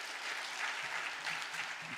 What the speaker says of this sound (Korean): 우리 하나님께 다시 한번 영광의 박수 드리도록 하겠습니다.